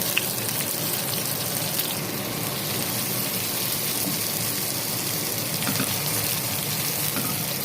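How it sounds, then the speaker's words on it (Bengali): Onions fry in oil in a pan for a fish curry, giving a steady, even hiss like light rain that carries on without a break. The sound is fairly soft and there is no talking. "তো আমি এখন এখানে পেঁয়াজ দিয়ে দিচ্ছি।"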